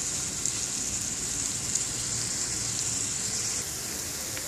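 Onions and green chillies fry in hot oil, producing a dense, even sizzle that crackles steadily from start to finish and eases slightly toward the end.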